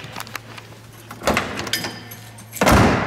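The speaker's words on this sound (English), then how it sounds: "These doors open and close beautifully" The door of a 1966 Ford Mustang convertible unlatches and swings, then shuts with a solid thud, followed by a second closing clunk, close up.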